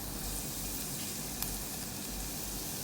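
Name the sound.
fenugreek seeds sizzling in hot coconut oil for Kerala fish curry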